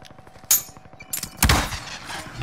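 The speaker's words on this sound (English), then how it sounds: "Oh, somebody shooting at me." Gunshots in a squad-based shooter video game: a sharp crack at the start, then a louder burst of shots further on with a ringing tail, set against faint rhythmic background game noise.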